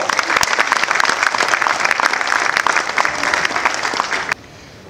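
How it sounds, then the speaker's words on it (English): A conference audience gives loud, dense applause as panel members take their seats for a connected-vehicle smart car session, the clapping sustained and close before stopping abruptly near the end. "Round of applause."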